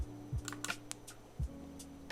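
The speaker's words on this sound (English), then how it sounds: "The thing that I love using is this little keyboard. I think that it sounds so satisfying" Typing on a small light-up keyboard paired with an iPad, a handful of soft, close clicks and taps spaced irregularly over a quiet room.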